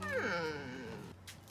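A cat gives a drawn-out, wavering meow, fairly quiet and close, followed by a brief faint rustle.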